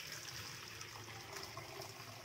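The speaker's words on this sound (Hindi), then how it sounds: "हमारे जो छेने का और पानी का जो घोल है इसमें डाल देंगे।" Hot chenna and whey mixture poured into a white cloth in a kitchen sink, a faint continuous watery gush and trickle with no voices.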